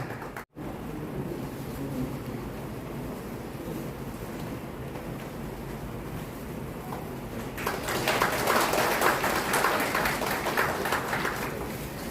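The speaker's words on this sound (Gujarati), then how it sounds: "આપની તાળીઓ બદલ ખૂબ ખૂબ આભાર." An audience at a Morbi district police gathering in Wankaner breaks into broad, sustained applause, which swells louder for the last few seconds over a constant outdoor rumble.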